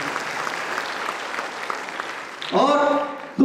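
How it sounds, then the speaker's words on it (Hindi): A hall audience at an awards ceremony honouring a late community figure breaks into applause, a burst of clapping that follows a stretch of quieter speech. "उनके लिए भी जोरदार तालियां चाहूंगा।"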